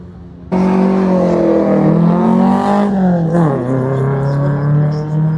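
A Lancia Flavia convertible engine roars up loudly and close while climbing a hill at a hillclimb event, revving higher before a gear change and then pulling steadily onward.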